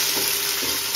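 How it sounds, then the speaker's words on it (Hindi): Onions browning in a pan for chicken biryani give a brief, steady, hissing sizzle at moderate level, heard alone. "हमारा देखो प्याज भुनने लग गया है"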